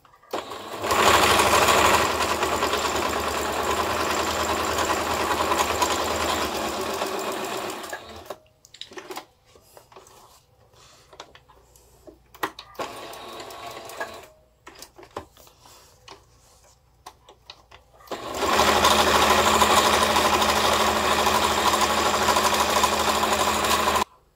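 A home sewing machine with a size 11 needle runs loudly and steadily, stops for several seconds of quieter rustling and clicks, then whirs back up to full speed.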